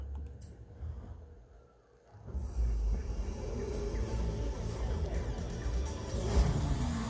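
A Mitsubishi Lancer in Forza Horizon 5, played on a home theater system, builds from a quieter idle into a steady, loud engine drone with a low rumble that swells again near the end.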